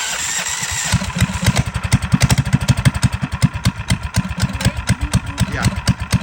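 Dirt bike fitted with a swapped-in big block motor starts up and settles into a loud, close, steady idle with a rapid, even thumping pulse.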